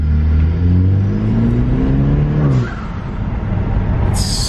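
A loud car on a test drive over a rocky road, the engine revving with rising then falling pitch before settling into a rougher rumble, close and unaccompanied by speech.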